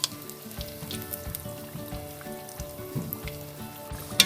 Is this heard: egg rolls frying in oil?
yes